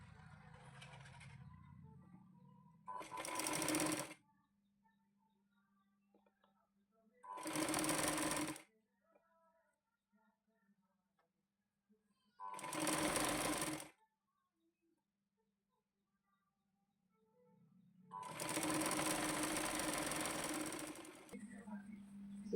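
A sewing machine stitches a 36-inch katori blouse in four separate bursts of fast, rattling whirr, each a few seconds long with silent pauses between, the last burst the longest, while someone speaks quietly at the start and end.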